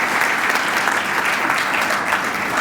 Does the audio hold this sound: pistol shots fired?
no